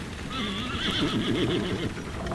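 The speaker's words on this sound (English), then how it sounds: "a fleet of ribboned white horses flew past the windows, followed by a stagecoach fit for a fairy tale." Ribboned white horses pulling past with a fairy-tale stagecoach whinny and neigh over a steady clip-clop of hooves, loud and close, with no voices.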